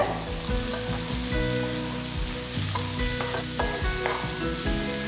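Sliced ivy gourd (kovakkai) fries in oil in a pan, sizzling and crackling steadily and loudly up close, with occasional stirring scrapes and pops and no voices.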